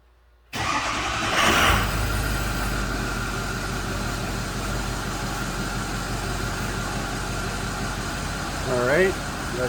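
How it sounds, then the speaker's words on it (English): A 2006 Ford F250 with the 6.0 engine starts abruptly with a loud surge, then settles into a steady, close idle that runs evenly to the end. "Start the engine."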